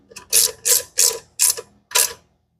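A ratchet snugs an intake manifold bolt on a big-block 1983 Foxbody Mustang GT, giving five close, loud bursts of rapid clicking at a steady pace with short pauses between them, no talking.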